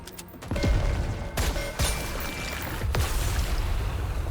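Rapid-fire sniper rifle shots in the game Nikke, several sharp cracks spaced about a second apart over a steady rumbling, busy battle background, with no talking.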